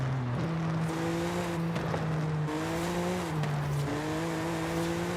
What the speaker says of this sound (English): They did really good with the exhaust on this car.